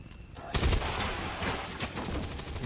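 Gunfire in the XCOM 2 War of the Chosen strategy game, a burst of shots opening a dense run of rapid firing and booms that rumbles on loudly through the clip with no one speaking.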